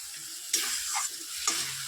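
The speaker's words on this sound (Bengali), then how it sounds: "এবার ভালো করে মিশিয়ে নেব আর এটার মধ্যে কয়েকটা কাঁচা লঙ্কা আরও অ্যাড করে দেব" Egg and cucumber with green chilies being stirred in a frying pan, a steady sizzle with a few scraping strokes of the spatula, close and moderately loud, no talking.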